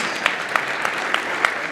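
An audience claps in a steady unison rhythm at a motivational talk, about six sharp, evenly spaced claps roughly a third of a second apart over a soft background.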